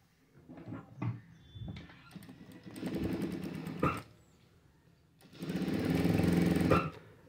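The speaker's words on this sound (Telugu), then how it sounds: "ఇప్పుడు స్టిచ్చింగ్ చేసేసుకోవాలి" A sewing machine stitches a princess-cut blouse in bursts of steady mechanical whirring, with quieter handling sounds and pauses between runs.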